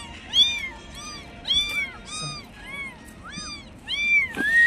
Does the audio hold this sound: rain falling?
no